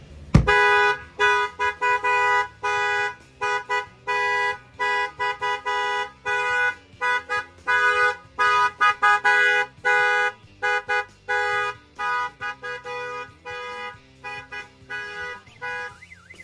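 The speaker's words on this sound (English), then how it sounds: "Your alarm is sounding on your vehicle." A Jeep Gladiator's car alarm cycles through loud electronic tones, warbling, chirping and beeping in shifting patterns, with brief gaps between bursts, close and insistent.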